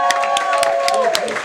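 Scattered audience clapping at Smokey Joe's comedy club night, sparse hand claps pattering under a host's voice.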